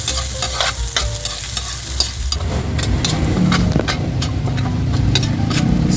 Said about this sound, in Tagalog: Makapaglagay na rin tayo ng mantika. Ilagay na natin guys yung ating bawang.